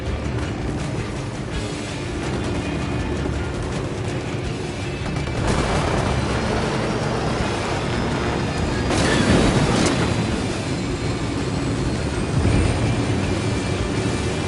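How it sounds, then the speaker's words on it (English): A helicopter in the video game Ghost Recon Wildlands flies over in a steady, loud engine and rotor drone, swelling and receding as it passes, with intermittent rumbling blasts and gunfire-like bursts in the background. "Hit the dirt, helicopter."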